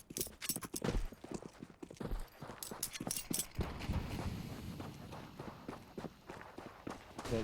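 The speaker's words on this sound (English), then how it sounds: "Hear the footsteps around the corner" Footsteps in the Counter-Strike video game on the Dust2 map, a quick run of crisp, hard steps on stone that patter rhythmically, some louder and nearer, others fainter around a corner, with no talk.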